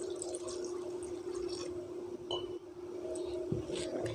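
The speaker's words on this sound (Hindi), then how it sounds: "थोड़ा सा हम पानी डाल लेंगे इसके अंदर," Water pours into a pot holding cream for making desi ghee, a soft, steady splashing trickle at low volume with a faint background hum throughout.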